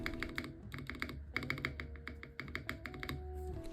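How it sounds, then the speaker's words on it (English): Rapid typing on a Redragon Elf Pro K649 75% mechanical keyboard with lubed switches, smooth, muted keystrokes in quick bursts and brief pauses, close and fairly quiet. "And now the switch sounds much better than it did factory."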